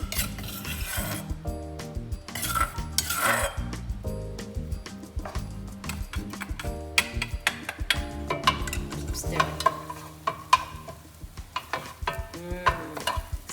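Prepared chili dropped into a pan of hot vegetable oil over medium-high heat, crackling and hissing with repeated scraping and stirring clatter against the pan, loud and close throughout.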